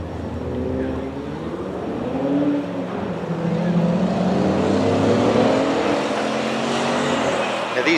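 A modified 1957 Ford race car engine revs and shifts through a tight section of the course, pitch rising and falling as it accelerates and brakes, heard from a moderate distance.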